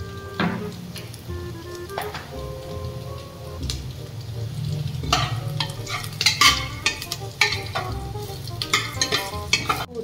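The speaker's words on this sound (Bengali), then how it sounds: "আদা শুকনো লঙ্কা রান্নাটা ভেজে দিই।" Ginger and dried red chillies fry in hot oil with a dense, rain-like crackling sizzle. Stirring scrapes and clatters against the pan grow busier toward the end.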